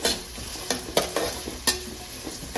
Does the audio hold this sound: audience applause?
no